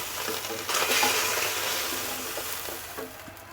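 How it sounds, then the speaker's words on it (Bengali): Fish head frying in hot oil in a pan, a steady close sizzle that swells after a moment, with light stirring and scraping over it. "মাছের মাথাটা আমার ভাজা হয়ে গেছে, এখন আমি এটাকে তুলে নেব।"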